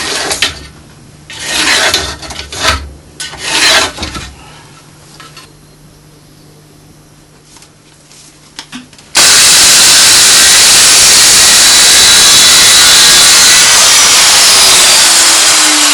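A hand saw cutting a board of yew or ash for a Windsor chair, with rhythmic rasping strokes at first, a quieter pause, then a loud, dense, continuous sawing rasp close by.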